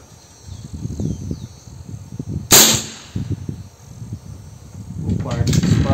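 A single sharp crack of an air rifle shot cuts through quiet outdoor murmuring and wind, followed by more low background noise.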